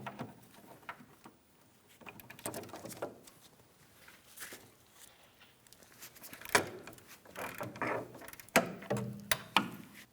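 A ratchet loosens an 18mm bolt on the rear upper control arm of a 2007-2014 Ford Edge, giving quick irregular metallic clicks and clunks in short bursts, quiet at first and growing louder near the end.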